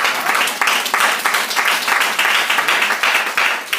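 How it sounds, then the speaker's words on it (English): An audience applauds steadily at a convention-style gathering, dense close clapping filling the room at full volume with no pauses. "Give him a round of applause."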